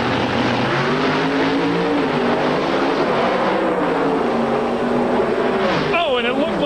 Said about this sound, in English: Let's listen to the sound of Pro Stock on speed.